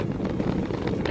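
Steady roaring sandstorm wind blowing dust across the Nubra Valley, a continuous broadband rush with low buffeting on the microphone, loud and close with no voices.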